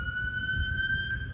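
A steady, fairly distant ambulance siren holds one wailing tone for about a second and a half over low background rumble, with no talk.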